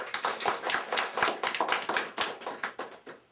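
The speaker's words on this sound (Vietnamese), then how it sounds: "Xin quý vị cho một tràng pháo tay cho gia đình cháu Danh" A temple congregation in Cleveland applauds a family for donating their house, with dense, lively clapping from many hands running steadily throughout.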